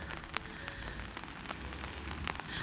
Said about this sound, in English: I'm stood under my brolly because it's raining